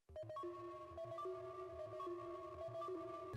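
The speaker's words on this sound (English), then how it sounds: "Last one, FX Circuit Flow," FX Circuit Flow preset from the Hive synth, a steady electronic texture of sustained tones hopping between pitches over a bubbling, pulsing low layer, fairly quiet and continuous with no voices.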